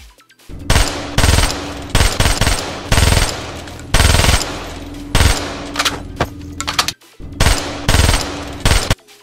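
AK-74U submachine gun firing in Call of Duty: Black Ops, loud rapid bursts and longer sustained sprays of automatic fire with brief gaps, close and dominant, with no talk.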